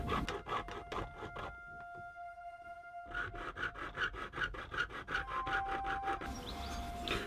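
Rapid back-and-forth rasping of a small saw cutting a nock into a wooden arrow shaft, a steady scraping rhythm with a brief pause partway through.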